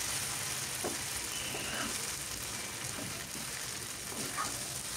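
Chicken noodles sizzle steadily in a hot pan while being stirred and mixed, a continuous close frying hiss with soft scraping stir sounds and no talking.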